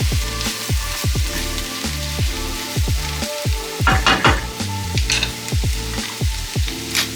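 A vegetable stir fry with shaved courgette sizzles loudly in a pan, with continuous frying crackle and a rhythmic series of scraping stirs and knocks, close up and with no speech.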